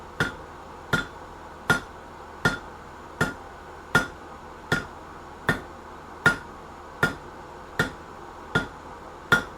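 A hammer strikes a nail being tapered on the edge of an anvil in a steady rhythm, about a dozen sharp, ringing metallic blows evenly spaced and close to the listener, with no one talking.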